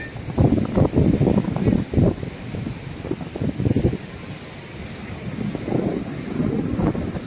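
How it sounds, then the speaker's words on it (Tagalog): Strong sea waves crash repeatedly in loud bursts with heavy wind buffeting the microphone, surf surging and receding several times. "Oh, lakas ng alon."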